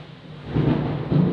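Thunder right after a nearby lightning strike, a low rumbling roar that swells in two heavy surges over a steady rain-like wash, close and fairly loud.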